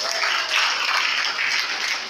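A crowd applauds at a ceremony welcoming new baccalaureate graduates, with brief, fairly steady clapping that swells slightly midway and continues without a break.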